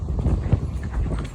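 Horse hooves clip-clopping on hard ground, a quick run of close, fairly loud thuds in an uneven walking rhythm, with no talk over it.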